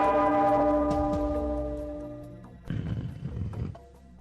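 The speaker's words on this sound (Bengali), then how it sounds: "ওই ঘন্টাটা বাজাও, বাজাও।" A bell rings in a Bengali cartoon, with one strong, resonant strike that rings out and fades over about two seconds, followed by a burst of low, rumbling commotion.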